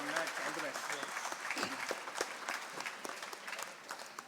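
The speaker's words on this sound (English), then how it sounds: "Can we have a thunderous round of applause for them?" Audience applause for the finalists at a regional school quiz final in Pune, a crowd clapping with scattered sharp claps, fairly distant and soft, mixed with voices in the hall.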